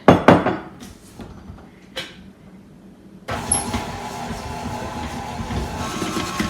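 An electric mixer blends four ingredients, Crisco among them, in a bowl. A few clattering knocks come first, then a steady whirring hum runs on its own without a break.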